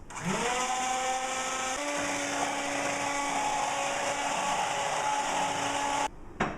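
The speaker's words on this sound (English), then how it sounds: "Now we're going to get our handy mixer here, and we're just going to mix it at medium, just for a couple of minutes." An electric hand mixer beats flan batter at medium speed for a Cuban flan, giving a steady, close, whirring motor drone that ramps up at the start and cuts off near the end.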